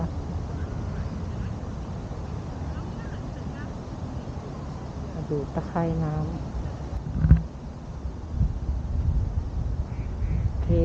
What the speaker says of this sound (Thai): เป็ด มีเป็ดหนึ่งตัว